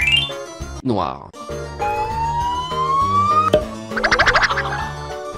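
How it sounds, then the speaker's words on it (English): A short police car siren tone rises steadily, then a rapid warbling electronic yelp pulses briefly, set against cheerful background music. "Police car."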